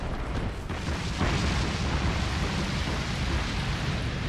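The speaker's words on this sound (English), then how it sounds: "Furious fire attack." A boss's fiery explosive attack in Dark Souls II roars as a dense, sustained rumbling blast, loud and continuous, swelling slightly after a brief dip and carrying on without any talk.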